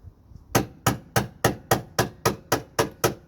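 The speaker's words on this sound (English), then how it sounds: "I have an impact driver, hammer, put that in there" A hammer strikes an impact driver set in the screws of a car door latch on a 1989 Honda Civic: a close, evenly spaced series of nine sharp metallic taps, alone and loud.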